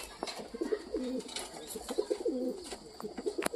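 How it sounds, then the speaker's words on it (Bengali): Several pigeons coo in low, rolling, repeated phrases nearby, with a few soft clicks and rustles between the calls. "মামা বাড়ির সাইডে একটা ভাইয়ের পায়রা আছে তারক ভাই"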